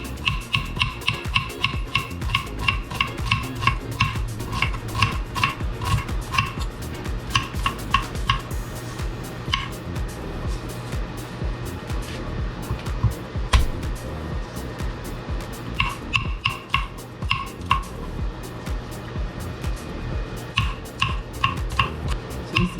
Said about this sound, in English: So I'm chopping up some vegetable guys, because I'm going to make a little stuffed mushrooms